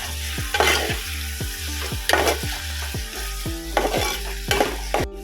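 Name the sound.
stirring tomato into frying chicken curry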